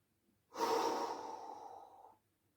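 One long, heavy exhale rushes out close to the microphone during a glute bridge exercise, loud at first and then fading, with silence before and after and no talking.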